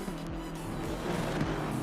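In Assetto Corsa Competizione at Kyalami during a two-hour endurance race, several race cars roar past in quick succession, with engine notes sweeping and overlapping as traffic builds. No one speaks.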